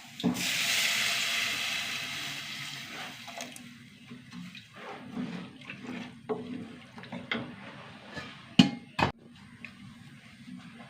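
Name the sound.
water being poured into the pan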